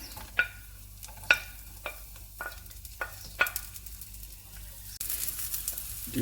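Garlic frying in sunflower oil in a pan sizzles softly while a utensil knocks and scrapes in sharp separate strokes, ending in a louder burst of hiss.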